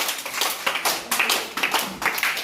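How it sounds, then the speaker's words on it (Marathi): A group of children clapping together for a classmate named Rudra, a quick run of close, sharp, uneven claps that comes in loose bursts. "हा, टाळ्या वाजवा रुद्रच्या नावानं."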